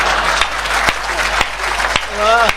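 Applause from an audience at a Hindi comedy poetry performance, with a few sharp claps and a brief voice near the end.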